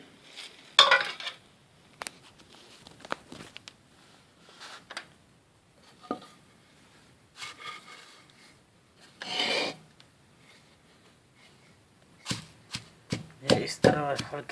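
Freshly cleaned leaves dropped and shuffled into a kundi mortar, giving soft rustling and scraping rubs with a few sharper knocks near the end, close and fairly quiet, with a voice talking now and then.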